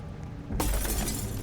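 A lamp falls in a Roblox horror game and shatters with a sudden, loud glassy crash that holds as a dense burst of noise after a quiet start.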